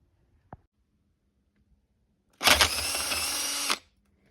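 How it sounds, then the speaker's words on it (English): A power drill enlarges a hole in metal while a starter is fitted to a 1966 Jeep, one short tap first, then a loud close whine lasting just over a second before cutting off into silence. "I'm just going to drill it out about a 64th larger than it is."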